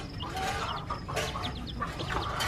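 A hen and her chicks in a rabbit hutch make soft, repeated clucks and high peeps close by, with a steady background murmur.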